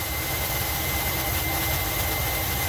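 A 1981 Dodge B250 Ram Van engine idling, a steady broadband rumble and hiss that runs loud and unbroken throughout.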